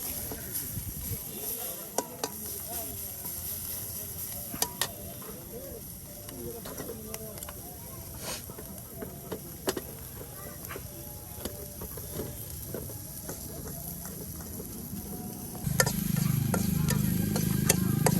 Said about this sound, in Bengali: সেই তেলের সাথে পেঁয়াজগুলো, পেঁয়াজ রসুন যেগুলো কাটছিলেন সেগুলো উলট পালট করে দিচ্ছেন।